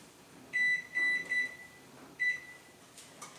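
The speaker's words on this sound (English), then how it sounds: "we're going to go ahead and turn on our oven" A kitchen oven beeps as it is switched on: three quick electronic tones in a row, a pause, then a fourth beep, clear and close in a quiet room.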